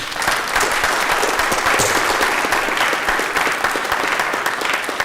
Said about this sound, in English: we can do so by giving these two institutions a clap